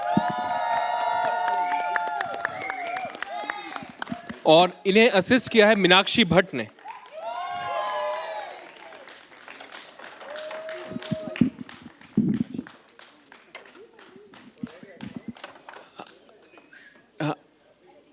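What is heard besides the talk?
applause and cheering for the play's director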